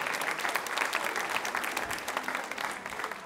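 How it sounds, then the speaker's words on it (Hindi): A crowd at a women's association quiz show claps for a cleanliness pledge, dense continuous applause filling the space at an even level throughout. "तालियां बजाइए संकल्प के लिए आप"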